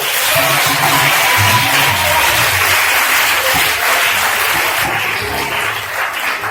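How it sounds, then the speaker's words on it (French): A church congregation claps together in sustained applause, a dense, even roar of many hands filling the room at full strength, tapering off only slightly toward the end. "Acclamez pour lui après."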